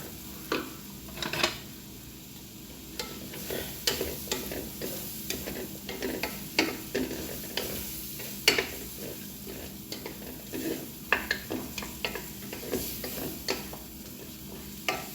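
Zucchini and string beans being stirred in a hot pan, a run of irregular scraping and clattering spatula strokes over a low sizzle, close and fairly quiet, no talking.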